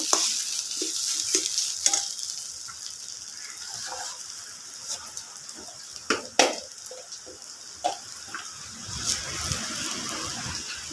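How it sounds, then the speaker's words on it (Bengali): Chana dal is stirred and mixed in a frying pan, a soft continuous sizzle under repeated scraping and clinking strokes of the spoon, with no talk. "ছোলার ডালটা দিয়েও ভালোভাবে নেড়ে চেড়ে মিশিয়ে নেব।"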